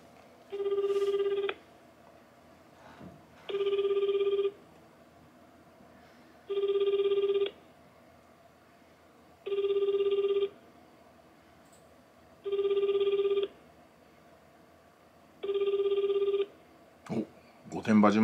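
A telephone call to a political party's office in Gotemba, Japan, rings six times in evenly spaced bursts of about a second each, with quiet gaps between and nobody answering, then a brief clatter at the end.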